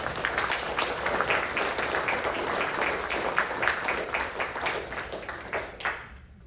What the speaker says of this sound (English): let's give Hayden a big round of applause